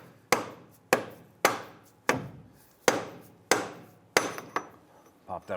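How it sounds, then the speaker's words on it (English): A dead blow hammer strikes a front driveshaft on a 2002-2008 Dodge Ram 1500 in seven sharp, evenly spaced thuds with short ringing decays, close and alone, followed by a few softer knocks and shuffling. "Now I'm going to go ahead and use my dead blow hammer here"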